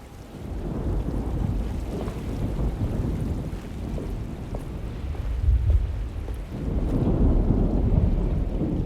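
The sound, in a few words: thunderstorm in the video game Alone in the Dark (2024)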